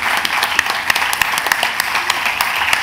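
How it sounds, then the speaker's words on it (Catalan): An audience applauds a chef's kitchen team at a seasonal chestnut-festival cooking demonstration at a market event, steady dense clapping with sharper individual claps standing out, close and fairly loud for about three seconds. "Un aplaudiment per a ells"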